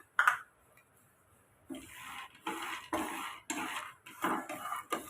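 Peanuts, one cup of them, are dry-roasted in a pan with a brief sharp clatter at the start, then repeated bursts of rattling and scraping as the nuts are stirred and tossed, fairly close and with no talking.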